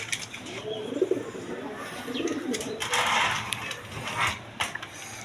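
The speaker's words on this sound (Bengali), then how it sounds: "এইখানে আরেক পেয়ার রাসগোল্লা কবুতর আছে দেখেন" A pair of big Rasgolla pigeons, a male and a female, coo in low, soft, rolling phrases close by, with light rustling and small knocks around them.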